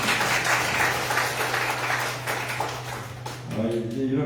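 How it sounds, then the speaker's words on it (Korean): Applause rises from an audience at a party members' meeting in Jeju, a dense steady patter of clapping filling the room for several seconds before a voice begins speaking over it. "이럴 때는 박수 한번 보내주세요."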